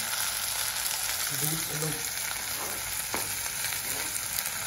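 Onions frying in a kadhai, a steady broadband sizzle that runs the whole time, with brief bits of voice and a short clatter partway through.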